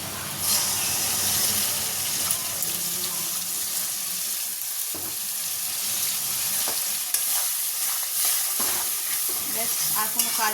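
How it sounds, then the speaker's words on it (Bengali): A ground spice paste of ginger, green chili and tomato sautés in plenty of oil with a constant bright sizzle. Occasional scraping and clatter from stirring cut through the hiss, with no talking. "নিয়ে এবার ভালো করে কষিয়ে নিতে হবে ভালো করে মশলা কষা হয়ে গেছিলো"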